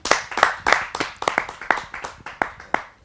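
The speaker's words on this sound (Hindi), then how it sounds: "आप सबकी जोरदार तालियों से मैं स्वागत करता हूँ उत्तम द्विवेदी जी का" At a Hindi poetry gathering, the audience greets a poet with close, crisp clapping in a steady rhythm, each sharp clap standing apart, with few voices.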